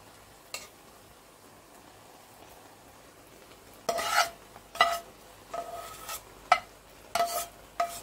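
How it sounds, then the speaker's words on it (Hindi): Spoon clinking and scraping while stirring carrots, almonds and raisins over rice for Afghani pulao, a few sharp separated clinks after a quiet start, close and moderately loud, no talking. "मैं चाह रही हूँ कि चम्मच की आवाज ना आए लेकिन फिर भी थोड़ी सी आ ही गई"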